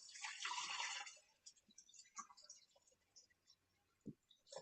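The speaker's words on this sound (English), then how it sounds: "you add about 900 mils or grams of water" Water poured from a kettle into a kitchen machine holding a whole lettuce head with the hard end chopped off, a loud splashing gush for about a second, then quieter drips and small knocks.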